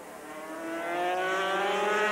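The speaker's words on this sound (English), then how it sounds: "the distinctive high-pitched buzz of the two-stroke engines taking it down towards Winfield Corner, where Oldfield, though, brakes well" Several 250cc two-stroke racing motorcycles at the 1981 Australian championship at Amaroo Park rev hard together, a high-pitched buzzing whine climbing in pitch and growing louder as they accelerate, with no talking.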